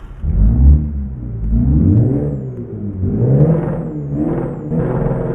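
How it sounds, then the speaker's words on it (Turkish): A Renault Master van with a modified exhaust in Euro Truck Simulator 2 revs repeatedly, rising and falling in deep, throaty surges with a rumbling exhaust tone, loud and close. "Şöyle aracı bir çalıştırayım size bir dinleteyim arkadaşlar."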